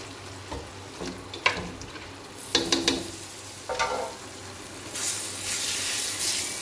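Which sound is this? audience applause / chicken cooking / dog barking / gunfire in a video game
chicken cooking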